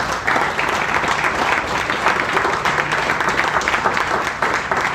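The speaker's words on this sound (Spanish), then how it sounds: "Den fuerte aplauso, Señor." A church congregation at a Spanish-language sermon breaks into loud, sustained applause, a thick continuous clapping that stays strong and even throughout, with no voices over it.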